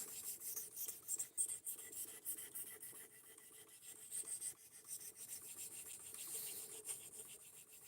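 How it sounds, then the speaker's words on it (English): A knife blade is drawn over a ceramic sharpening stone in steady, close rasping strokes, a continuous rhythmic scraping with no talking. "I think we're just taking this up to ceramic, and then I'm going to strop it"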